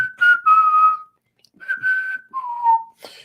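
Someone whistles the melody of a song, clear sustained notes in two phrases separated by a brief pause, close and solo.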